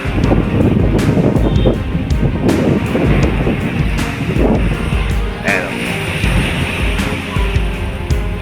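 Strong waves and gusting wind along the Manila Bay shore produce a continuous loud roar, with low rumbling surf and wind buffeting the microphone throughout.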